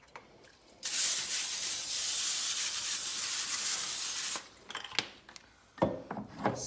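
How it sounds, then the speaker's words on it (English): A spray can mists a barbecue rack with cooking spray in one long, loud, close hiss lasting about three and a half seconds, followed by a few handling knocks and rustles. "Got to spray that rack."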